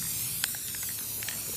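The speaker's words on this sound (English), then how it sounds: "we're actually going to spray paint as much as we can on one side" An aerosol spray paint can hisses against a pole in short bursts and a longer steady spray, close and fairly quiet.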